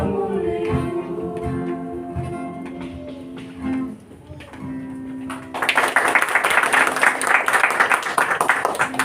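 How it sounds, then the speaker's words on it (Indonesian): In a church worship service, a sustained organ-like musical chord fades out, then a congregation bursts into loud, dense applause for young people from Nusantara that keeps going to the end. "Sekali lagi berikan tepuk tangan untuk anak-anak muda dari Nusantara."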